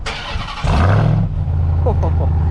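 A Ram TRX pickup truck engine fires up and settles into a deep, loud exhaust rumble, with a couple of short revs near the end.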